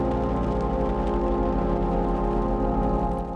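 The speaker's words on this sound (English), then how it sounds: "Some hail's starting to come down." Hail and rain pound steadily during a supercell storm chase, a loud, dense, unbroken rush of drops drumming on a vehicle with no pauses throughout.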